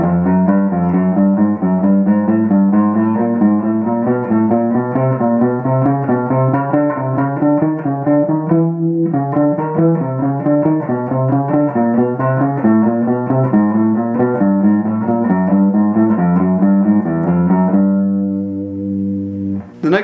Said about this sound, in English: taking the notes of the chromatic scale and grouping them into fours and play an ascending fours pattern.